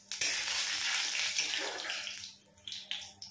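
Whole cumin seeds sizzle in hot mustard oil in a wok, giving a loud, steady, hissing crackle that fades gradually toward the end.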